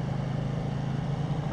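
A 2018 KTM 790 Duke cruising in third gear at about 30, engine held just under 3,000 rpm, giving a steady low drone with constant wind rush and no speech.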